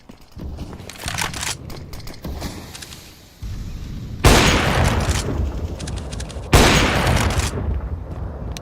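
Grenade blasts in the shooter game CS:GO: two loud, sudden booms about two seconds apart, each with a long rumbling tail, following scattered gunfire and a quieter stretch.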